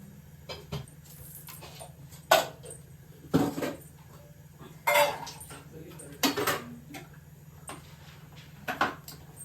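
Metal pooja vessels clink and clatter while being handled and cleaned in a pooja room, with sharp, separate knocks every second or so over a low steady hum.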